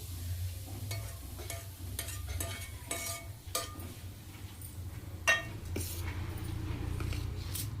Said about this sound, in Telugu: వేడి నూనె వేస్తాను వేడి నూనె ఒక కప్పు వరకు ఉంటుంది ఇప్పుడు మిక్స్ చేస్తాను